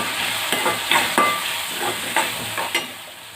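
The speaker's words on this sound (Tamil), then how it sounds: "நல்லா வதக்கிட்டுருங்க." Onion, tomato, chilli powder and garam masala sizzle in a pan while a spoon stirs and scrapes repeatedly, giving a steady fry with regular sharp clinks, close and fairly loud.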